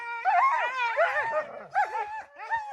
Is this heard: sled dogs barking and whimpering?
yes